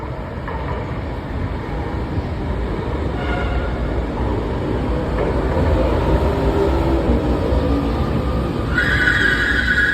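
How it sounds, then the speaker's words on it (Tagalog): LRT Line 1 train arriving at a station, a continuous rumbling roll that grows louder over the stretch, with a bright high tone near the end, and no voices. "Dito na yung train, sasakay na ulit."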